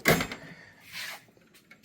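A drawer on a US General five-drawer tool cart slides open or shut, a sharp near clack followed by a softer sliding rumble, brief and alone.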